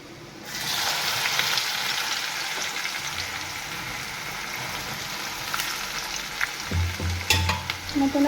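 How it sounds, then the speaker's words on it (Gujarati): Onion tipped into a hot pan bursts into a loud, close sizzle that settles into steady frying, with utensil clinks and scrapes near the end. "અને હવે તેમાં નાખીશું ડુંગળી."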